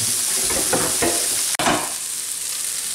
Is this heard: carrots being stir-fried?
yes